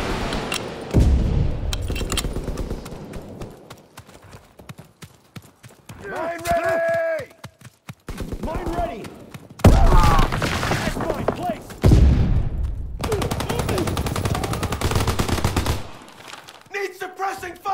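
Gunfire in the World War II shooter Call of Duty: WWII during a team deathmatch, bursts of automatic fire and single shots scattered through the clip, mixed with shouted in-game voice callouts and other battle noise.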